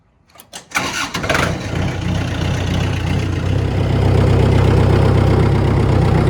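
A 1993 Chevy OBS truck with a 350 engine cranks in a few quick bursts, fires up and settles into a loud, steady rumbling idle that grows slightly fuller.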